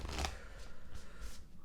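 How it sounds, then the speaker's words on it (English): A Wild Unknown Tarot card deck is shuffled by hand up close, with a loud riffling burst followed by several softer, rhythmic slides of cards, with no talk over it. "So I will be using the Wild Unknown Tarot"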